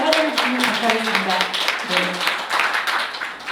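Audience applause at the launch of a party members' council, with a dense, steady patter of clapping from a crowded room running under a speaking voice.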